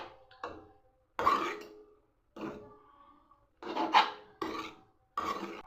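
A spoon mixes rice uppumavu with ground almonds in a pan, giving short, separate bursts of close scraping and stirring with quiet gaps between them.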